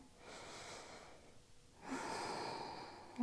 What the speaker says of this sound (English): Take a full breath here.